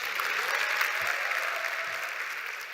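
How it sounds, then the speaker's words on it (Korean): A lecture audience claps loudly and continuously for a few seconds, a dense burst of applause with no talking over it. "박수 한번 부탁드리겠습니다."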